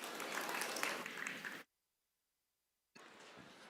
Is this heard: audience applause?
yes